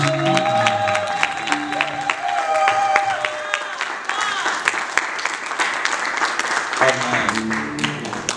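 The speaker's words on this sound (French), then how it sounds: "nous acclamons pour la gloire de notre Seigneur Jésus" A church congregation breaks into sustained applause and cheering for a prophet arriving at a worship service, a loud crowd sound running throughout with music tones and voices mixed in.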